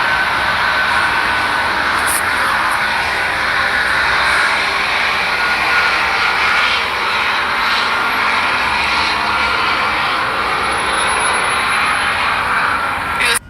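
A helicopter flying overhead at night around 9 p.m., a steady, loud broadband engine and rotor roar that holds evenly throughout without fading, with no voices.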